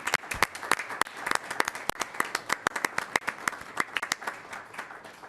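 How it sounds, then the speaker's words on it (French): Applause for award nominees at a municipal council meeting comes from a modest group: distinct, uneven individual claps in a loose, sparse rhythm at moderate volume. "on les applaudit pour leur nomination"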